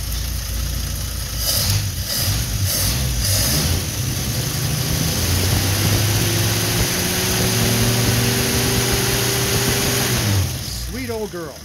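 Old Nash flathead six-cylinder engine with a 6-volt positive-earth system running after being dug out, a loud, steady idle with rising revs, a few early sputters and a voice talking briefly near the end.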